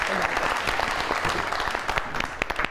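Studio audience applause on a talk show, dense steady clapping filling the room for a few seconds, with a few louder individual claps standing out near the end.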